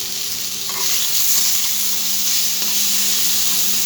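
Boiled potatoes and local fish stir-frying together in a pan, giving a steady close sizzle and hiss that swells slightly after the first second and holds alone with no talk.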